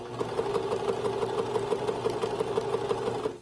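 A sewing machine runs steadily, stitching a straight seam through cowboy-print fabric. Its rapid, even mechanical whirr carries on without pause from start to finish, close and clear, with no talking.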